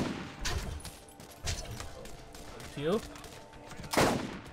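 Gunfire in the Borderlands shooter game: several separate sharp shots spaced out over a few seconds, the last one loudest, with brief game effects between them and a short spoken phrase.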